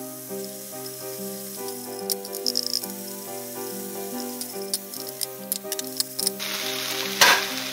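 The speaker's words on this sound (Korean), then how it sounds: "같이 볶아주시면 됩니다." Soft sizzling of wood ear and shiitake mushrooms stir-frying in a pan with seasoning sauce, with occasional clicks of stirring, under steady background music.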